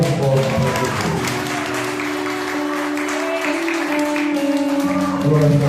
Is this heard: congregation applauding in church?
yes